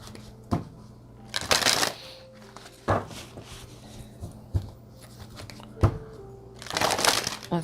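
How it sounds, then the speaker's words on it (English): Oracle cards from a Whispers of Healing deck are shuffled in a few separate bursts of crisp riffling and flicking, close and fairly loud, with soft taps and rustles between and no talking. "Let me get a card from this Whispers of Healing deck."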